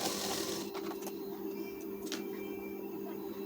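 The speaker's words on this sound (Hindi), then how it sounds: "इसी तरीके से सिलाई चलाना है" A sewing machine stitching a blouse runs with a steady, fast mechanical whir and clatter throughout, loud and close, with a couple of brief sharper clicks.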